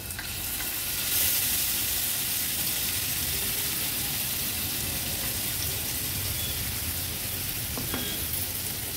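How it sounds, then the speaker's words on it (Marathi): Chutney is sautéed in about half a spoon of oil in a small pan on a gas stove, giving a dense, continuous sizzle and hiss throughout with faint stirring scrapes. "अगदी अर्ध्या चमच्या तेलावरच आपण ही थोडी परतून घ्यायची आहे"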